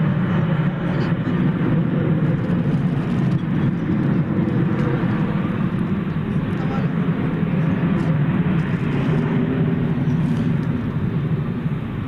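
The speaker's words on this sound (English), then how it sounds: "That was a plane coming in over on the east side." Airliner on approach over the east side of DFW Airport at night, a steady broad engine roar sustained throughout without clear rise or fall, heard alone with no talk.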